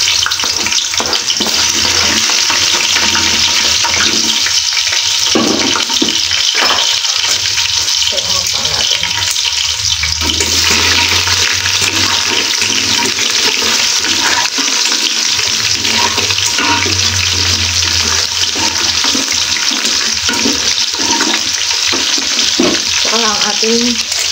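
Onions and chicken fry in a pan with a loud, steady sizzle, and stirring and clatter are heard now and then, while a voice speaks at times over the cooking.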